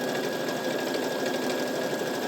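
A domestic sewing machine runs a quarter-inch French seam through fabric, its motor whirring in one steady, even burst with a fast mechanical hum and no pauses.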